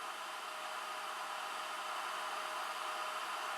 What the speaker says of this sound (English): I've just turned the printer on now.